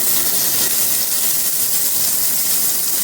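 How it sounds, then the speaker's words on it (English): Luffa seasoned only with salt and garlic powder sizzles hard in a very hot pan, a dense, steady, loud frying hiss that holds evenly throughout without any voices. "So you can see it sizzling up real good,"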